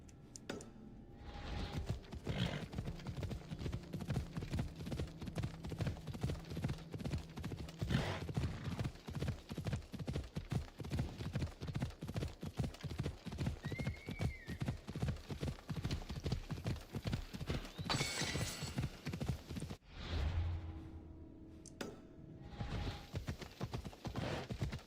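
Steady, rhythmic clip-clop of horse hooves in the video game Assassin's Creed Odyssey continues throughout, even and close, with a brief whinny-like tone partway through.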